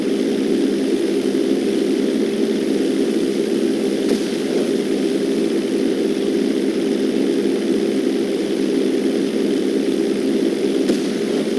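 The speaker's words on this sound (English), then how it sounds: "Now let's get the plane off the runway." Steady, loud drone of a propeller aircraft engine in GTA 5, holding a constant buzzing hum with no change in pitch across the whole stretch.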